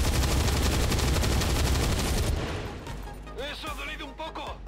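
Rapid gunfire from the turn-based strategy game XCOM 2, a loud dense burst of shots for about two seconds that then drops away, leaving game effects with a voice talking over them.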